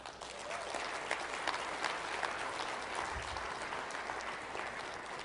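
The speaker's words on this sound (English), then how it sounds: "Now that deserves some applause." An audience at a speaking event in Las Vegas breaks into dense, sustained applause that holds at an even, moderately loud level throughout, with no voices over it.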